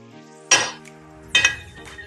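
Utensils clinking against a bowl while salsa is mixed, two sharp metallic clinks with ringing tails about a second apart, close and clear.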